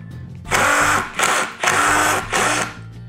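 A power driver with a Torx T30 bit drives a structural lag screw in four loud whirring bursts, close up, separated by brief pauses.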